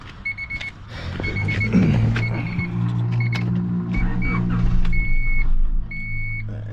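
A 1991 Honda Accord engine started on a jump box cranks and catches, then settles into a steady, close running rumble while a repeated electronic beep chimes above it.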